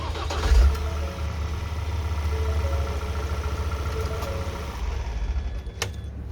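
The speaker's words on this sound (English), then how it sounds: "start the van" A Ford Transit Custom van engine starts up and settles into a steady low idle close by, with a brief click near the end and no voices.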